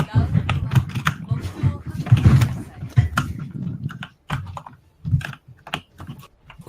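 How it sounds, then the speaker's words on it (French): Rapid clacking keystrokes from a computer keyboard tap along in bursts, close and fairly loud, with a voice talking intermittently. "On entend le clavier de quelqu'un, c'est désagréable."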